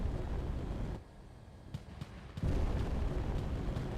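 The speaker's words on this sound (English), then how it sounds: "I see explosions." Deep rumbling explosions in Space Engineers combat, a loud roar that dips briefly with a few sharp pops, then surges back strongly.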